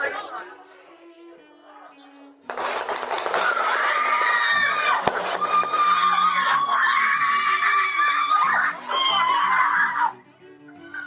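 People screaming in panic on a street after gunshots, captured by a Ring doorbell camera: a sudden burst of loud, overlapping shrieks and frantic chatter lasting several seconds, then dropping away.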